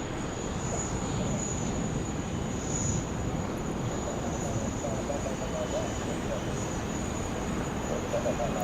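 The steady, broad roar of a Qantas 15 airliner departing Sydney Airport for LAX, a continuous rumble heard from a distance, with faint insect chirps and some background voices.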